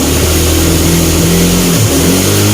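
An EX150 motorcycle with a 60 mm ceramic-coated cylinder revs hard in second gear, giving a loud, close, steady engine roar that holds at high revs and wavers slightly in pitch near the end.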